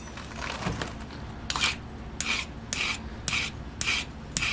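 A flintknapping pressure flaker is sharpened with short, repeated rasping file strokes, about six gritty scrapes in an uneven rhythm, close and fairly loud with no talking.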